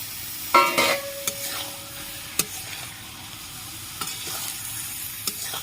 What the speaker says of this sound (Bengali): ভিজিয়ে রাখা সোয়াবিন দিয়ে দিচ্ছি